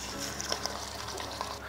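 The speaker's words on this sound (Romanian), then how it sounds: "Eu aud cum sfârâi uleiul." Meat frying in hot oil in a kitchen, a steady crackling sizzle with small pops, continuous and close.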